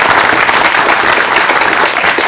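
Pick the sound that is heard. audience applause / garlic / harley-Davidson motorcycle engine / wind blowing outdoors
audience applause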